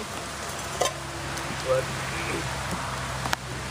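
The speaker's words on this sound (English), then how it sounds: "today I'm doing a video in the rain" Rain falling outdoors as a steady close hiss with scattered drop taps and a few sharper knocks, while someone says a word briefly.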